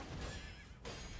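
A horse in the Elden Ring video game neighs in a brief whinny over dense, steady game background noise, with no talk.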